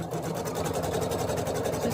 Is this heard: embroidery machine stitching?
yes